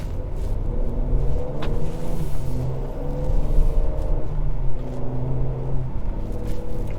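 A 2022 Ford Explorer ST cruising in Eco mode, heard from inside the cabin as a steady engine drone with road rumble and a gentle rise in revs, continuous and close with no talking.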